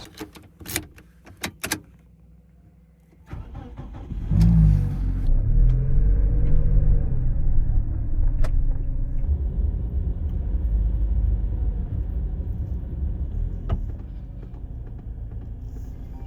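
A Toyota HiAce van on the Toyama coast in Nyuzen gives a few sharp clicks and knocks, then its engine starts and it pulls away, a steady low rumble that fades slightly near the end.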